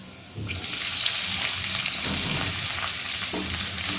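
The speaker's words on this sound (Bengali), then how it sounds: "এবার এতে আমি কুচিয়ে রাখা পেঁয়াজগুলো দিয়ে দেব" Chopped onions dropped into hot oil with frying garlic for dry paneer, setting off a sudden loud sizzle that holds strong and steady, with light stirring scrapes, close up.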